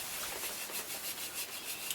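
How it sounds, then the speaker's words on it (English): A steel arrowhead for a Northern Plains style metal broadhead is worked with a file in short, soft, repeated rasping strokes, heard up close with no talking. "But they still have to be filed."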